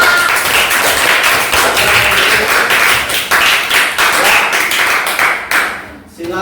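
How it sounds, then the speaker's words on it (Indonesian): Classroom applause at an elementary school after a group presentation, many children clapping loudly and steadily before it thins out near the end, with some voices mixed in. "Tepuk tangan."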